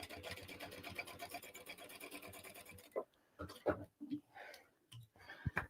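A sewing machine runs steadily for about three seconds, basting pieces of a crossbody bag together within the seam allowance, then stops, followed by scattered close handling and rustling noises.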